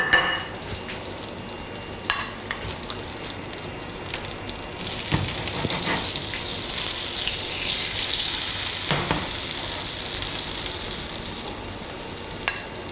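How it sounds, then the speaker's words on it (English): Butter sizzling and crackling in a hot frying pan, a steady close hiss of frying with small stirring clicks and scrapes, swelling slightly and then easing off. "Hear that sizzle? It's starting to fade."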